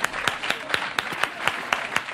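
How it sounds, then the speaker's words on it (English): Round of applause from a small group, a quick run of sharp claps at a steady rhythm, close and moderately loud with no talking. "Can we get a round of applause, everyone, for Ravs being such a good sport?"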